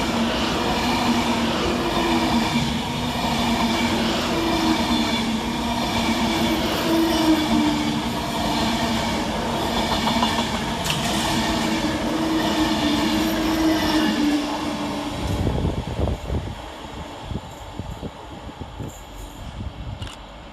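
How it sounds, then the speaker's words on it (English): A Class 390 Avanti West Coast electric train runs through Perry Barr station, a loud continuous rumble with a steady drone, wheel clatter and squeal that cuts off abruptly near the end. "It's 390-130, working 1 Sierra 72 from London Euston to Glasgow Central."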